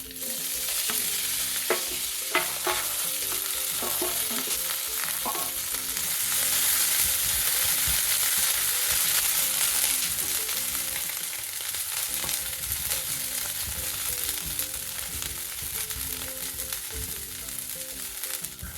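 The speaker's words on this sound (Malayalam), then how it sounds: "ആ വെള്ളമൊക്കെ വലിഞ്ഞ് നല്ല ഇങ്ങനെ കിലുകിലാ ശബ്ദം ആവുന്നത് വരെ നല്ലോണം ഇങ്ങനെ ഇളക്കിക്കൊണ്ട് തന്നെ ഇത് വറുത്തെടുക്കണം" Curry leaves crackle and sizzle in hot oil with popped mustard seeds while being stirred for curry leaf pickle, a steady frying hiss with scattered pops, close by and without talk.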